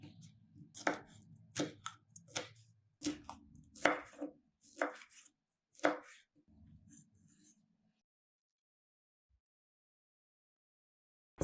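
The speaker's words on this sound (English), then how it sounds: "Cut 1 red chili into long thin strips for garnishing." A knife chops a red chili into long thin strips on a board, giving a run of crisp, close taps that stop halfway, followed by near silence.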